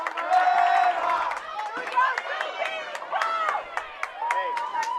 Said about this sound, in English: There's some nice cheering coming from these Falcon bowlers in the crowd